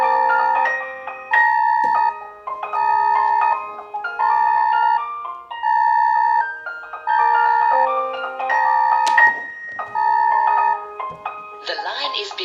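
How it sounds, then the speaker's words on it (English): A VIP Vision G Series intercom door station calls the indoor monitors, which ring with a loud, repeating electronic tune of steady tonal phrases near the microphone, ending in a brief burst of other chimes. "So if we press the call button on the door station."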